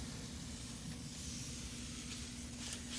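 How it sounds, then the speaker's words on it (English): A spray bottle lightly mists a horned dragon's cage, giving a steady continuous hiss that runs unbroken for the whole stretch, close and fairly loud. "so I'll just spray this like whole cage. Just lightly mist everything."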